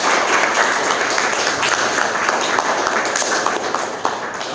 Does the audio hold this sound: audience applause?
yes